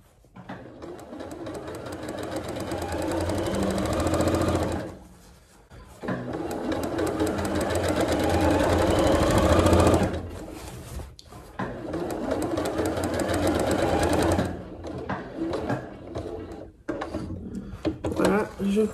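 Domestic sewing machine stitching dress fabric, a fast steady mechanical whir running in long bursts with brief pauses as the needle is planted and the cloth turned, close and fairly loud.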